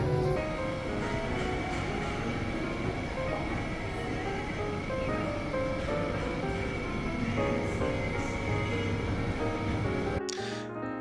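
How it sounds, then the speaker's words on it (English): Steady rumbling rail noise from inside a moving train near Copenhagen, a continuous loud hum and rattle that cuts off abruptly near the end. "we jumped back on a train and took the hour journey back into Copenhagen"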